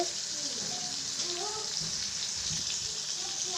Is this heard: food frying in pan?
yes